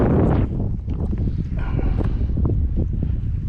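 Wind gusting over open water around a small fishing boat where mullet are being chased, rough buffeting noise across the microphone with small knocks and water sounds.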